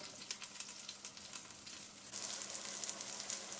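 Shallots, green chilies, galangal and lemongrass sizzling in a pot for fish noodle soup, a steady crackling hiss that swells louder halfway through, close and continuous with no voices.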